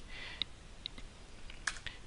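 Computer keyboard keys are pressed for a shortcut, giving three sharp, separate clicks over a quiet background with no talking.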